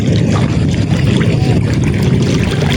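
A loud, steady rumble of a Filipino bangka boat motoring over water, mixed with constant wind buffeting the microphone and the wash of waves.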